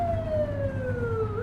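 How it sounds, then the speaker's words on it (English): A police car siren in the cop game The Precinct, a loud wailing tone sliding slowly downward then turning back up, steady under a low engine rumble with no talking. "flip the siren and make them pull over."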